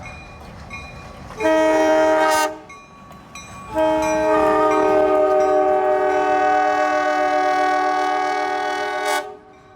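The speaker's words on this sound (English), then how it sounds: "our train's approaching" A Strasburg Railroad train horn sounds loudly in a short blast, pauses, then a long sustained blast follows as the train draws near a crossing.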